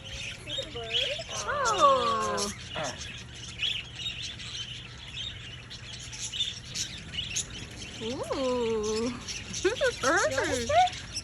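A bird at the zoo chirps and squeals in short bursts, fairly close, with two clusters of calls separated by quieter background murmur.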